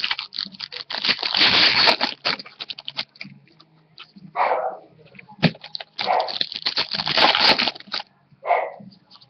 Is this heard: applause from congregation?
no